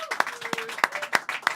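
Scattered applause from a small audience at a live jazz-style band set in The Steinway Room, sparse individual claps rising and falling under a faint sustained tone, moderately close.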